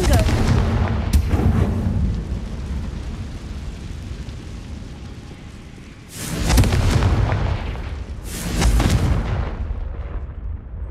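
Confringo blasting spell explosions in the Hogwarts Legacy video game, three heavy booming blasts with long rumbling decays at roughly the start, six and eight seconds, loud and close.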